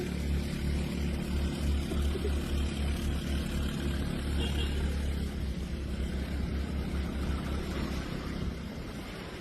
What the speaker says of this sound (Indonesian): apakah Yamaha Gear Ultima ini dengan muatan berat bisa nanjak?